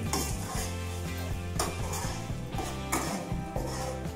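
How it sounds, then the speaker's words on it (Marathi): Okra fry being stirred together with masala in a pan, a spoon scraping and clinking against the metal in repeated strokes over a faint sizzle, close and moderately quiet, with no voices. "आता सर्व एकत्र छान असं मिक्स करून घ्यायचं"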